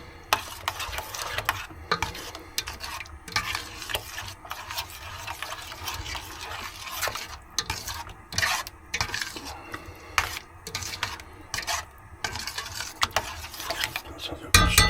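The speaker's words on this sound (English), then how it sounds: "All my spices are in, so I'm going to give it a good stir now" Spiced curry being stirred in a pan while cooking in a camper van, a steady scraping and rubbing of utensil against metal with irregular bursts, fairly close and continuous throughout.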